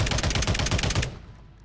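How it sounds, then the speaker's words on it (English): Rapid automatic gunfire in a solo-win video game match, a loud dense burst of repeated shots for about a second that then cuts off into a fading tail. "He starts making gunfire here."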